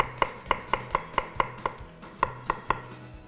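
Knife chopping garlic cloves on a board, about ten sharp, evenly paced cuts close up and loud, with one short gap partway through.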